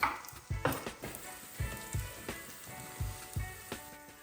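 Ginger sizzles and crackles in a hot pan, with quiet frying hiss broken by a series of soft irregular thumps and pops, close and fairly faint.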